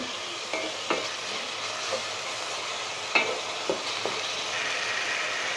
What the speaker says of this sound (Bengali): ভালো করে ভাজতে হবে তেল বেশি দেওয়া যাবে না